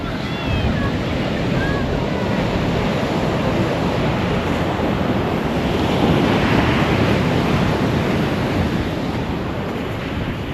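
Ocean waves crash and roar continuously on Nantucket with heavy wind buffeting the microphone, a loud, steady wash of surf throughout.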